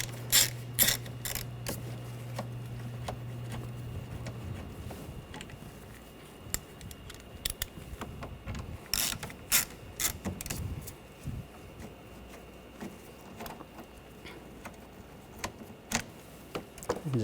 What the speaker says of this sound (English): Take these two screws out, use a T25 socket.